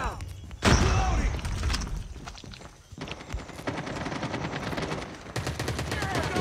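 Heavy automatic gunfire in the video game Call of Duty Mobile on a tiny map: loud, sustained bursts of rapid shots, a brief lull, then more rattling fire, with game voices and action noise mixed in.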